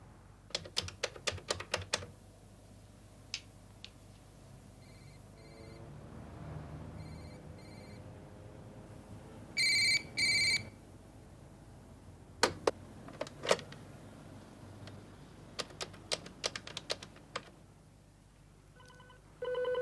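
In an empty office at night, a telephone rings again and again with no answer, bursts of electronic trills separated by pauses and scattered sharp clicks in a quiet room.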